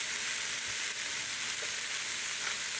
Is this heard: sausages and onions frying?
yes